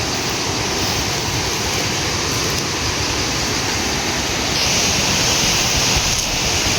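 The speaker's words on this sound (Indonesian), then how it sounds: "Di bawahnya juga ada sungai ini." A river flows below a cliffside footpath, a steady broadband rushing of water heard alone, continuous and fairly loud throughout with no voices.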